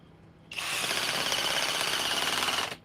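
A hydraulic impact driver runs in one burst of about two seconds, a steady, fairly quiet buzzing whir that starts and stops abruptly against a hushed background.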